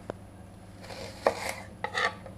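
A knife chops an onion coarsely on a board, a few quiet, separate cuts with a short scrape, close up in a calm kitchen.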